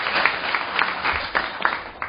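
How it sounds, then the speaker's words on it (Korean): A conference audience at a welfare policy forum claps briefly to welcome a presenter, a short burst of clapping that holds steady for about two seconds. "박수로 맞이해주시기 바랍니다"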